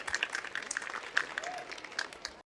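Audience at a college stage performance clapping to welcome children, a scattered, moderately quiet patter of hands with a faint voice briefly audible underneath.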